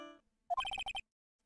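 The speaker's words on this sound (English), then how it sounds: "Sorry, that's my phone." Mobile phone ringtone: a short electronic melody of about six quick bright beeps in a burst, fairly faint and isolated, with a brief tone before it and a short sound after.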